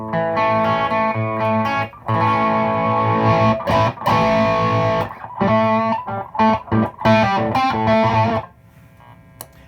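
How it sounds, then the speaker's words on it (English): An electric guitar played straight into an overdriven amp with no pedal, giving a thick distorted tone; chords and riffs ring out loudly for most of the stretch, with brief gaps, before fading to a quiet tail. "here's the amp with that same overdrive, no pedal."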